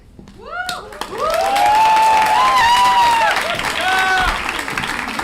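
A graduation ceremony audience bursts into sustained applause and cheering for a Master of Science in Data Journalism graduate, a dense crowd roar rising after a brief pause and holding loudly, with whoops and a voice over it.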